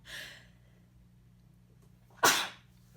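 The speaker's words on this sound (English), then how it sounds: "I have to sneeze." A single sharp sneeze bursts out near the end after a soft breath, close and loud against a quiet background hum.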